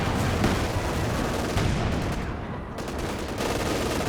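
Grenade blasts and gunfire in a Company of Heroes 2 multiplayer battle, dense continuous loud rumbling combat noise with overlapping bursts and booms throughout.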